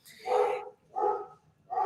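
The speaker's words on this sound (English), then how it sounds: "Oh, he heard the delivery truck. He's going to start barking." A dog barks at a delivery truck passing outside: three separate, fairly close barks, each about half a second long, with short gaps between them and no talking.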